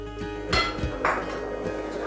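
Two metallic clinks ring out close by, a lid settling onto a saucepan, against a quiet low background hum.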